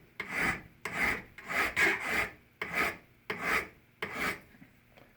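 A hand file rasps a metal ring shank to a sharp point in about seven quick, even strokes, each a crisp close-up scrape separated by short pauses, with no talking.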